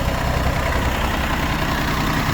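A Yanmar F15D three-cylinder mini tractor with four-wheel drive and a rotary tiller idles steadily, a continuous low, even engine rumble close by and alone.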